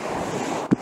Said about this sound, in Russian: Вот такие волны. Кайфовые прямо.